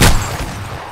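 A single loud gunshot at the start of the clip, from a shotgun or rifle in PUBG on the snowy Vikendi map during a nighttime duo match limited to shotguns and pistols, then fades into a dull tail.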